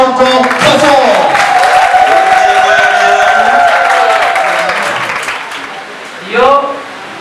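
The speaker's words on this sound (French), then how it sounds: "On applaudit encore très fort." Wedding guests applaud at an official wedding ceremony, the clapping steady and close, mixed with loud voices and tonal sound, fading slightly before a brief swell near the end.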